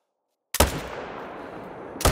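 A loud rifle shot rings out at a bear in the hunting game theHunter: Call of the Wild, followed by a long rolling echo that fades over about a second and a half, then a second sharp shot cuts in at the very end.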